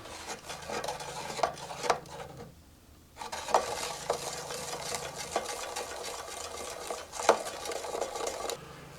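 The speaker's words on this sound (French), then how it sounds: "Et on mélange pendant au moins 10 minutes." Homemade soap bubble liquid being stirred in a container, with scraping, rasping strokes repeating steadily and close up, one brief pause partway through, no voices.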